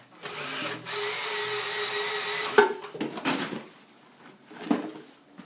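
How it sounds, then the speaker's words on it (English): A power drill driving a homemade heavy-duty wire stripper hums steadily for a couple of seconds, then there are clattering, scraping knocks and short bursts of the motor as wire is fed through. It is close. "so I can put the power drill on here and feed it like that"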